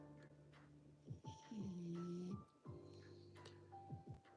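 Someone snoring nearby in a quiet room, with slow, drawn-out rumbling breaths and a few snorts at an irregular pace, audible alone without talking.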